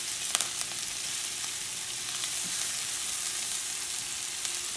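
Garlic sizzles in a hot pan while cooking a Mediterranean stuffed eggplant dish, a steady, close, even frying hiss that runs unbroken throughout.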